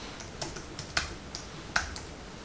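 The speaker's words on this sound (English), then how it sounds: "Just typing cheats." Cheat codes typed on a computer keyboard, a handful of irregular crisp key clicks with one or two heavier strikes, close and distinct, with no talking.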